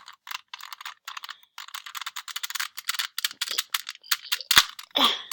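A Rubik's 2.0 speed cube is turned rapidly, producing crisp clicking and clacking bursts in quick succession, close and fairly loud, with brief pauses between turns.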